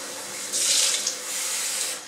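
Cold water runs from a kitchen tap while Algerian couscous is prepared, a steady splashing hiss that swells after a moment and stays continuous.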